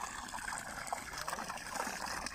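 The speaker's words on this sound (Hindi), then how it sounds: "ये एक छोटा सा छोटा सा चश्मा जो के लगाया हुआ है" Water from a small natural spring trickles out of a pipe in a steady, faint outdoor stream with a light gurgle and no voices over it.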